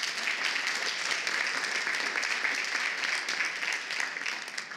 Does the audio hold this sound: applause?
yes